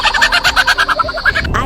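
A bird that mimics other sounds gives a loud, close run of about a dozen rapid, evenly spaced clucking calls, then breaks off with a brief harsher note.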